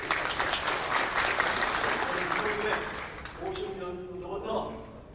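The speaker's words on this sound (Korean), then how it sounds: "박수로 맞이해 주시기 바랍니다." An audience claps at a Korean political party members' assembly in a hall, a dense, loud burst of applause that holds for about three seconds and then thins out as a voice begins speaking.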